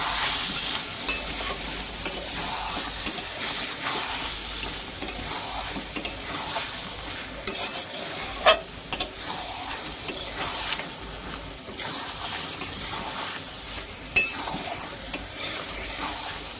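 Kashmiri chilli powder being stirred into turtle meat curry frying in a pan, with steady sizzling and repeated scraping and clinking of a spoon against the pot throughout, close and unbroken.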